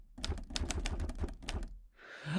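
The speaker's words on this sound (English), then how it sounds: "if you got to do typewriter sounds for something, I'm just playing this on my keyboard" Typewriter sounds played on a keyboard synth: a quick run of crisp, evenly spaced clacks, followed by a brief hissy swell at the end.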